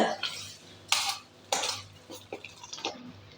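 Urad dal vada batter is stirred and mixed in a bowl, with a utensil scraping and knocking against the bowl in several quick, irregular strokes, close and fairly quiet.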